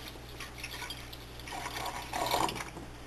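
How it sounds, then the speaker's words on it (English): Apple juice pours into a stainless steel pot in a soft, steady liquid rush that swells louder near the end, close and quiet with no talking. "So here I'm going to pour this into my stainless steel pot."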